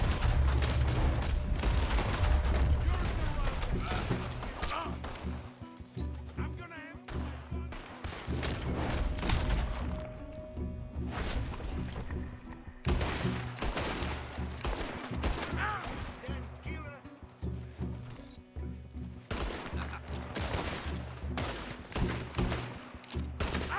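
Pistol gunshots ring out in Red Dead Redemption 2 amid dense game gunfire, repeated sharp cracks scattered irregularly over a busy, loud battle soundscape with occasional speech underneath.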